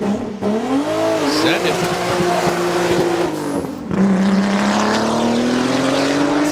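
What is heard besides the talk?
1984 Audi 4000 race car accelerating at Pikes Peak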